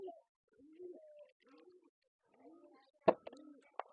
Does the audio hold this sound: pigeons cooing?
yes